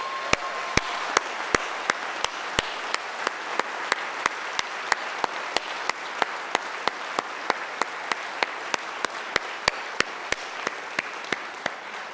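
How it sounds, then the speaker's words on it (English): A congregation at a church service applauds in a steady, continuous wash of clapping, punctuated by a regular series of sharp, evenly spaced clicks running through the whole stretch. "let's just hear a round of applause for them"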